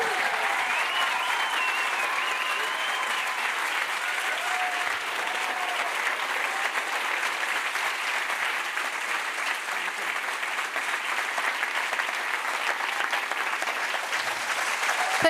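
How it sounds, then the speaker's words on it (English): A large audience at a science summit claps steadily, with a few scattered cheers and whoops over the continuous clapping. "you need to give me a final, vast, huge cheer for the woman who made all of this possible"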